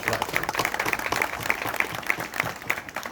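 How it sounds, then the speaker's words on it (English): Crowd applause at a Canada Day celebration held at a mosque in Oro-Medonte, Ontario: dense, continuous clapping with a few sharper individual claps standing out at a steady rhythm. "I think we need another round of applause."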